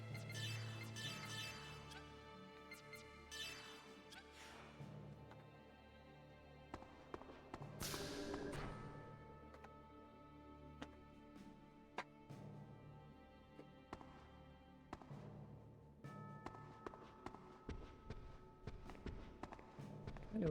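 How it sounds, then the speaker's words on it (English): Shoe footsteps in the video game Xenosaga, quiet repeated steps at an uneven walking pace, mixed with game music and effects and a few sharper taps. "We still have the footsteps of the shoes"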